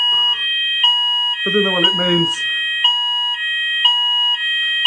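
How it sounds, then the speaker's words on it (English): In a standard Butlins Minehead bedroom, a loud electronic room alarm sounds steadily with a pulsing beat about twice a second. A person speaks briefly over it partway through. "That's the noise for the alarm."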